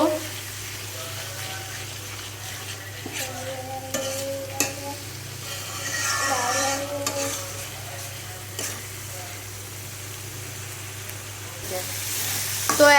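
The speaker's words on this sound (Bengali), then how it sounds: "দিয়ে দিলাম স্বাদ মতো মরিচের গুঁড়া এখন একটু ভালো করে নেড়ে চেড়ে কষিয়ে নিব" Spices with chili powder fry in a pan with a low steady sizzle while a utensil scrapes and clinks against the metal in irregular strokes, under a constant low hum and some background talk.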